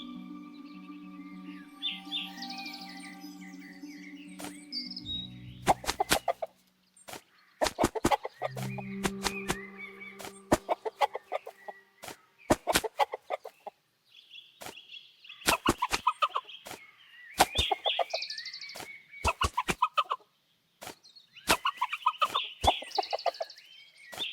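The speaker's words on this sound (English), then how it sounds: "So I guess a chicken will do too. We still need to catch it." Chicken clucking in the hidden-object adventure game Lost Lands 10, a series of short clucks and gobble-like calls repeating in bursts over a steady game music bed, fairly close and clear.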